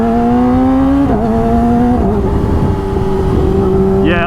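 A 2019 Yamaha R6 motorcycle with an aftermarket exhaust runs loud and close, its engine note holding and stepping between gears while accelerating, a steady droning roar throughout.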